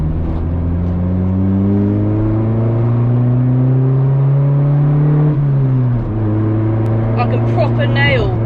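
A modified Honda EP3 with a loud aftermarket exhaust pulls hard from inside the cabin, its engine drone climbing steadily in pitch, dipping at a gear change and rising again, loud and continuous.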